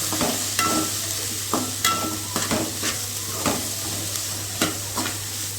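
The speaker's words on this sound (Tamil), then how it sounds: "சோயாவை இதில் சேர்த்துட்டு நல்லா மிக்ஸ் பண்ணிக்கலாம்." Soya chunks being stirred into fried tomato and onion in a pan, with steady sizzling and several distinct scrapes of a spoon against the metal, moderately close.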